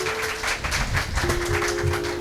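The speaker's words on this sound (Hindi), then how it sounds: "जोरदार तालियों से आप स्वागत कीजिए हमारे मुख्य अतिथियों का" A concert audience claps to welcome the chief guests at a tribute show. The clapping is fairly loud and lively, with a faint steady tone running underneath.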